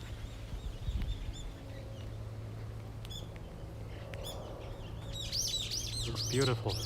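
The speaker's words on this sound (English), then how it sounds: "Bulbul birds are flying around and screeching." Bulbuls chirp and screech in a quick burst near the end on a sunny afternoon in Japan, faint at first then louder, over a steady low background hum.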